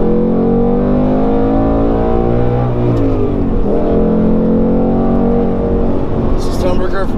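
A 2019 Ford Mustang Bullitt exhaust revving in normal mode: a loud, deep, continuous engine roar heard up close, its pitch sagging and climbing again midway.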